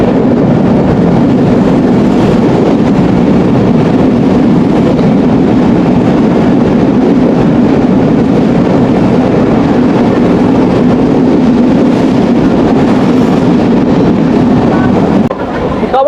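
A Betna Express train runs from Khulna toward Benapole. Its steady low rumble and rolling rail noise stay continuous and loud throughout, mixed with wind buffeting.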